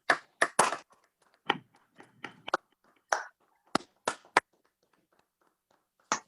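Sparse claps sound over a video call for a retiring colleague named John, a handful of separate sharp hand claps arriving in small bursts with gaps of silence between them, fairly quiet and thin.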